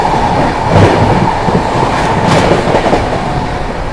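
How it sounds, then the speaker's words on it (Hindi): Prayagraj Humsafar Express train running through Phaphund station, a loud steady rumble of wheels and carriages heard close up from on board, without voices. "अपनी प्रयागराज हमसफर एक्सप्रेस स्किप करने जा रही है फफूंद"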